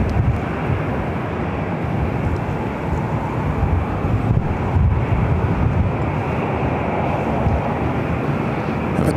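Delta Airbus A321 jet at LAX, a broad, steady roar with wind buffeting the microphone, fairly loud and sustained throughout.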